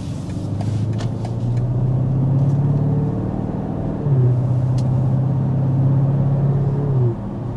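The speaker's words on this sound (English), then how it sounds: "the V8 still just adds so much to the experience because you've got that just wonderful sound" A 2025 BMW X6 with a V8 engine drones steadily from inside the cabin while driving, a loud low hum that rises in pitch, drops once and climbs again.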